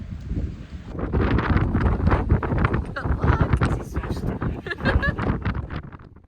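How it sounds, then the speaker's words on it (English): Gusty wind with driving sideways rain on the coast of Lofoten, Norway, a steady loud rush buffeting the microphone throughout, with faint talk mixed in. "It's windy and rainy. It is like raining sideways."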